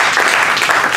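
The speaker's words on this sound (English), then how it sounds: "That's a reason to clap your hands and cheer." An audience at a gospel magic and technology lecture claps hands in a dense, steady burst of applause that fills the whole moment without letup.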